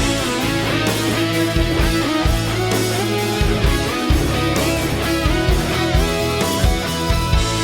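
An electric guitar solo plays over a full band backing, with fast melodic lead lines, bends and steady drum hits throughout.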